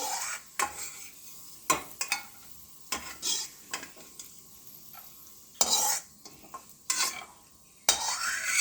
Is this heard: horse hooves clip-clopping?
no